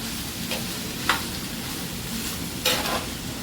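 Five slit green chillies frying with salt in a pan for a home-style beef curry, a steady close sizzle broken by a few sharp stir scrapes.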